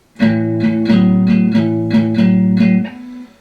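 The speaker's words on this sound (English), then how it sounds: "Another way you can get that sound is down here with a power chord" A guitar plays a rapid, rhythmic series of eight strummed power chord hits, close and loud, then rings briefly and stops.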